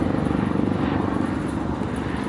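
Helicopter rotor chop and engine drone passing overhead in a city neighborhood, a steady loud rumble with rhythmic blade pulsing throughout, no voices.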